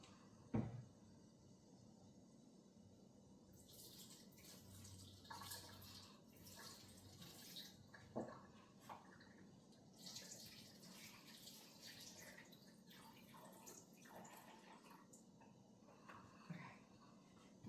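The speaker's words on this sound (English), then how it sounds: "So all I'm going to do is just tip this pan and just pour this out" Liquid splashes and trickles as it is poured out of a pan after cooking fish, with clinks of cookware and a soft running-water sound in a quiet kitchen.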